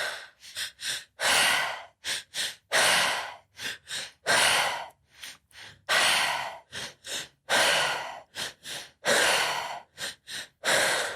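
Forceful rhythmic breathing exercise, with sharp breaths pushed in and out through the nose and mouth in a fast, steady pattern, close and loud, alternating with a few longer, deeper exhalations.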